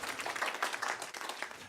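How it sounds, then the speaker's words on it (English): A church congregation at a Sunday service applauds the music coordinator with a brief, steady wash of clapping from many hands. "So let's give her a round of applause for all that she's been doing."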